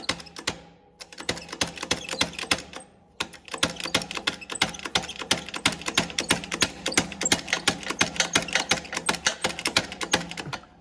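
A bearing is pressed into a Kinze no-till coulter hub with a press and socket, producing rapid, regular ratcheting clicks in a steady rhythm, close by and moderately quiet, with a few brief pauses.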